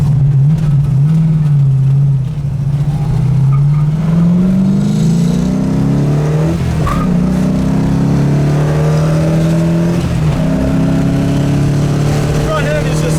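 A 1972 Plymouth Cuda muscle car accelerates along a drive, its loud, close V8 drone rising and falling in pitch through gear changes, with people talking over it.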